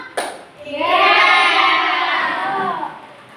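A class of children standing in an Indonesian school room burst into a rhythmic clapping chant together, a loud sustained wash of hand claps and young voices that swells and then fades.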